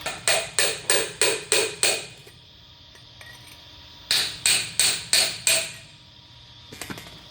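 Sharp hammer strikes on a retaining wall block to split it, a rapid run of six blows, a pause, then five more, ringing briefly after each hit.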